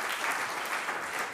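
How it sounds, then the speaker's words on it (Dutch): An audience at a talk event claps for a woman, a steady, dense round of applause filling the whole stretch without pause. "Applaus voor deze mevrouw."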